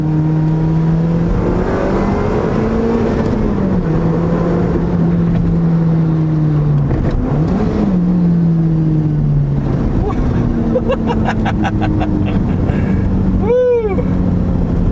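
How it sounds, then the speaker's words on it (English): A Toyota-engined Lotus Elise Sprint track car accelerates hard, its engine note climbing and dropping through gear changes, loud and close from inside the cabin, with faint clicks and a brief whoosh near the end. "And that engine sound, glorious!"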